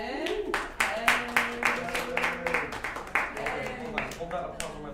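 Scattered applause and a few claps at a student senate meeting, several separate hand claps in an uneven rhythm, moderate and close, with people talking over them.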